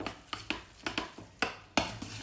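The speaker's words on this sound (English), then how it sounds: "Get this all mixed so we can make our patties for frying." Patty mixture being stirred by hand in a bowl before frying, a series of soft wet scrapes and taps against the dish at an uneven rhythm, close and fairly quiet, with no talking.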